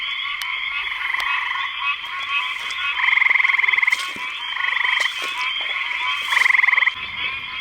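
A frog calls close by with loud, repeated pulsed trills. The croaking comes in rhythmic bursts with short gaps between them, with no one speaking.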